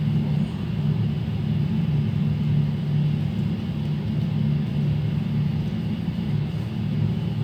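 Aircraft taxiing on a taxiway at Bradley airport before takeoff, a steady low engine drone and rumble heard from inside, with no talk.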